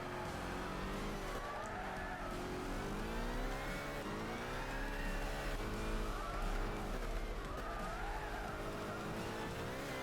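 A Camaro race car in the Gran Turismo 6 video game roars steadily for about ten seconds, its engine revving up and down with tire squeal and skidding underneath, fairly quiet in level with no voices.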